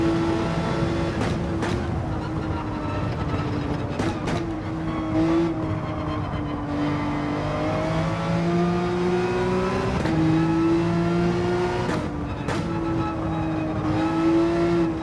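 A race car in Gran Turismo 7 revs hard through a lap, its engine note climbing and dropping with gear shifts, loud and continuous, broken by brief sharp clicks.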